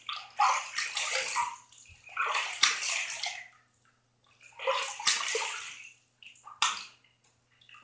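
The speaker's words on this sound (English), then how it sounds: "now let's rinse." Water splashes and sloshes as a chrome shaving brush is rinsed, in several separate bursts of running and swishing water with short quiet gaps between them, close and fairly soft.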